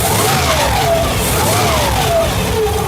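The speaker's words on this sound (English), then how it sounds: "Oh, listen to those timing gears though." A cammed Chevy 350 V8 in a 1987 Firebird running loud and close, with a rising and falling whine from its timing gears riding over the choppy engine rumble as the revs swing.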